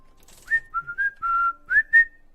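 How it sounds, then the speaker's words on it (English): A person whistles a short tune of about six clear, sliding notes, close to the microphone and with no talking. "Don't whistle. I'll do it whenever I want."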